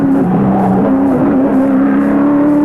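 A race car engine in the 1983 Bathurst 1000 drones loudly and steadily with small pitch shifts, close and continuous, as it works down through the gears.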